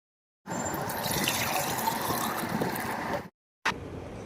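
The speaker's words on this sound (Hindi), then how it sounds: "तो मैं डाइनिंग टेबल पे जग इसी तरह से भर के रखती हूँ।" Water pours steadily into a jug to fill it for a home dining table, a close, continuous gushing that stops abruptly, then a brief second splash after a short pause.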